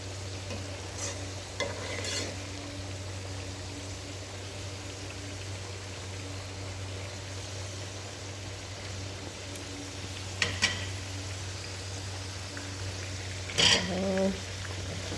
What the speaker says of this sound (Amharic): ድንችን እየጠበስኩ ነው።